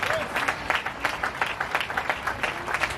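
Church audience applauding and cheering a preacher, with dense, sustained clapping that rolls on steadily through the whole stretch, moderately loud and close.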